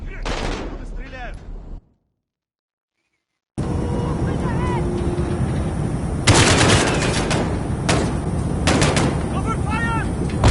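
Gunfire in the Modern Warfare video game campaign: loud, dense bursts of shooting and explosions, rapid repeated shots over a constant roar after a brief silent gap, with voices shouting among the battle noise.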